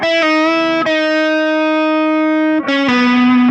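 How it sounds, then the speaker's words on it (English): A sustained distorted electric guitar note, held steadily before a very small bend dips its pitch slightly downward, then a new note is picked and rings out loudly. "I've written very small bend down, so it sounds like this."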